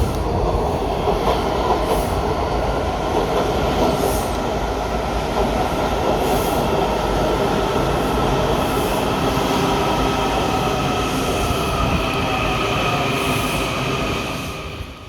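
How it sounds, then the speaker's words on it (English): A Washington DC Metro Silver Line train rolls loudly along the rails with a constant rumble and roar, faint rhythmic clicks and a high squeal over the wheels. "We'll be taking the train to Metro Center"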